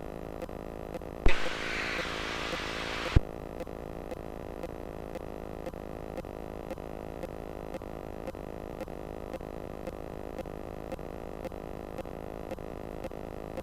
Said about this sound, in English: A little bit of power so we can warm the engine up.